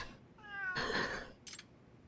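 A cat meows in the video game Lost Judgment, with a rising, drawn-out mew followed by a louder, longer cry and a brief high chirp at the end. The cat is close and sounds alone, with no talk over it.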